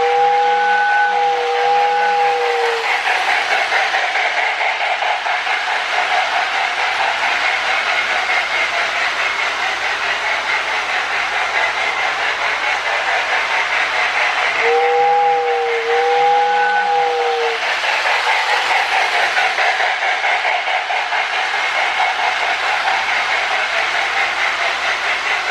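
A Marx Candy Cane toy log train with its 898 smoking locomotive runs continuously with a steady hiss and rolling rumble, its whistle sounding twice in two-tone toots near the start and midway.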